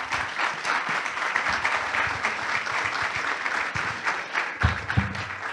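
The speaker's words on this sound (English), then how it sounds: "Please join me in giving them a big round of applause." Steady, full applause from an audience at a sustainability panel event, dense and continuous for several seconds with a few louder claps near the end.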